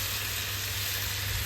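Chicken sizzles in a frying pan with a steady, close, hissing crackle that holds at an even level throughout, with no voices over it.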